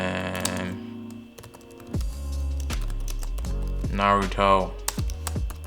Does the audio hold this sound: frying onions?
no